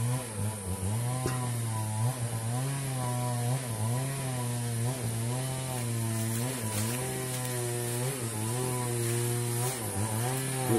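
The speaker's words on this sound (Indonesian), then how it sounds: "ada orang yang sedang menebang pohon" A chainsaw cutting down a tree near a cemetery runs loudly and continuously for the whole stretch, its engine pitch rising and falling in steady waves as the blade works through the wood.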